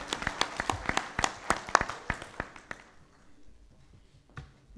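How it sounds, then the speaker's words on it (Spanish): A seated audience at a formal panel gives applause welcoming a magistrate: a moderate patter of many hands clapping that tapers off after a few seconds into near quiet. "a la cual recibimos con un fuerte aplauso"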